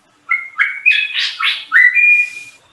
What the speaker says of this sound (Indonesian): Aduh, ada suara burung lagi.